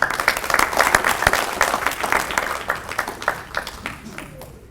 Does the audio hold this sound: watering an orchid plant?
no